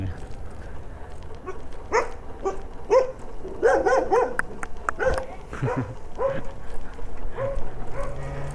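A dog barks repeatedly in short yips and bow-wows at someone riding a cheap lead-acid electric bicycle down a street, the barks fairly close and irregular over a low background hum.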